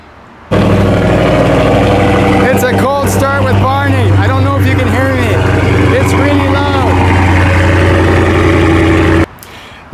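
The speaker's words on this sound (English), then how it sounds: "Yeah, so you can see the cold starts are loud." Cold start of a Dodge Hellcat with a mid muffler delete exhaust: a loud, steady low rumble that kicks in abruptly and holds at a fast idle, with someone talking over it throughout.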